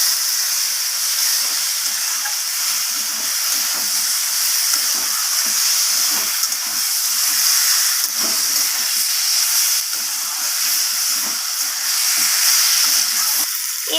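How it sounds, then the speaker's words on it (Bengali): Eggplant and potato sauté with spices in a hot pan, a loud, steady sizzle and hiss with occasional stirring scrapes throughout, close up and without talk. "বেগুনটা দিয়ে আলুর সাথে আর সব কিছু মশলার সাথে কষিয়ে নিচ্ছি আমি এইভাবে"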